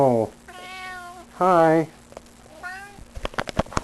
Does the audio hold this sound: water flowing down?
no